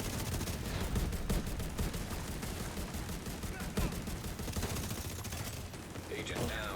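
Enemy gunfire in the video game The Division 2, a sustained barrage of overlapping shots that stays loud and continuous, thinning slightly near the end.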